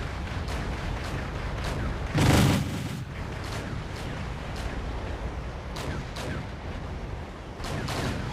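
Sustained gunfire in the Wargame: European Escalation video game, a dense continuous crackle of shots with one louder booming explosion burst near the start and scattered sharp reports throughout.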